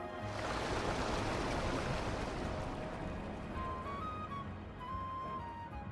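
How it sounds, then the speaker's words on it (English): In Pokemon Legends: Z-A, water drains from a frozen fountain into the sewers as a steady rushing wash that starts loud and gradually fades, with faint tones over the tail end and no talk. "Look, all the water's draining through the sewers."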